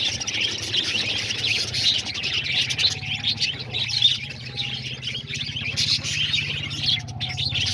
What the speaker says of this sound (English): let me know what you guys think of those two English Budgies that I just got